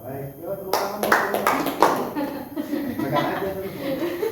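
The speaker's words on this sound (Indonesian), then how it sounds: "yuk tepuk tangan" A small audience at a pre-marriage talk for university students gives a short burst of clapping, mixed with chuckles and talk nearby.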